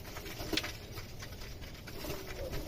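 Pigeons feeding at a loft, with soft pecking patter and faint cooing close by over a steady low background.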